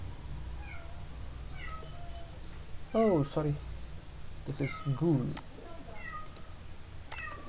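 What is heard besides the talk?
house cat meowing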